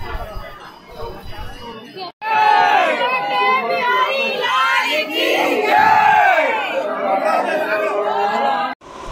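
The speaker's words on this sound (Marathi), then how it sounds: "सर्व परिसरात राधाकृष्णाचा जल्लोष सुरू होता" Large crowd of devotees celebrating at the Banke Bihari temple in Vrindavan, a dense roar of many voices shouting and chanting together, loud and continuous with brief pauses.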